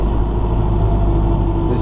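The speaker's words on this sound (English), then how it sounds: "I've gotten used to this tractor, and it is very nice loading bales with it." Kubota M4 tractor loading round bales, a loud steady low engine rumble heard close up and continuous throughout, with no talk.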